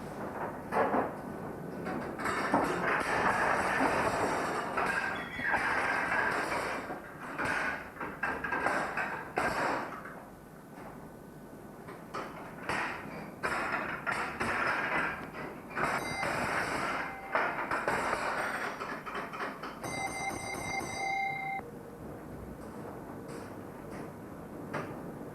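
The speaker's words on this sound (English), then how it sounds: "Passing through the station is a train of hopper wagons" Train of hopper wagons rolling through a station with a level crossing, a long rumbling pass with rhythmic clanks and rattles of wheels over rail joints, swelling and easing over time, with a brief high tone near the end.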